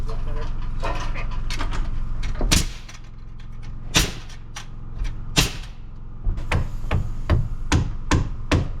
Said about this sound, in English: pass me the hammer up. I just want to set these nails a bit better